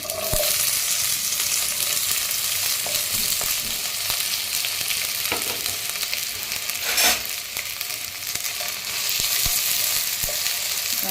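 Chopped ivy gourd fries in oil in a pan on the stove, a loud continuous crackling sizzle up close, with occasional scraping and knocking as it is stirred.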